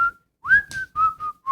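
A person whistles a melody, several clear, pure sliding notes with brief gaps between phrases, close and fairly loud with no talking.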